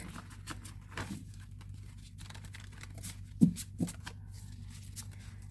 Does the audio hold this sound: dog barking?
no